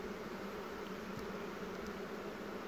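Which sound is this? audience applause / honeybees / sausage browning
honeybees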